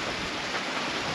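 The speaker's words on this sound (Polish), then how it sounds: "Pada dzisiaj" Heavy rain falling on a farm, a dense, steady hiss of broadband noise that stays loud and even throughout, with no other sounds over it.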